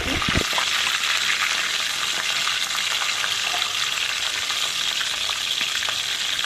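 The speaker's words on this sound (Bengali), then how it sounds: "ওই তেল যা ছিল ওর মধ্যে আমি তেজপাতা শুকনো মরিচ দিয়ে দিলাম ব্লেন্ড করা মশলাগুলো দিচ্ছি" Blended spices, bay leaf and dry chilli frying in leftover oil from fried vegetables for khichuri, giving a loud, dense, steady sizzle throughout with a few sharp crackles at the start.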